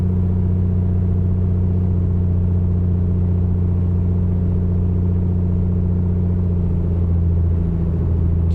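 A Piper Comanche engine holds a steady run-up near 1800 RPM in MSFS 2024, a loud, constant droning hum that stays even throughout with no voices.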